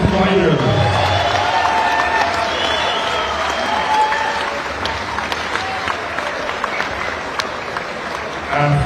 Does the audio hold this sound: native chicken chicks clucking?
no